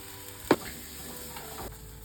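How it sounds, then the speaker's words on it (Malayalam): Small shallots fry in a pan with a steady, close sizzling hiss, broken once by a single sharp tap. "ആദ്യം ചെറുള്ളി ഇടാൻ പോവാ പഴുക്കാൻ വേണ്ടി"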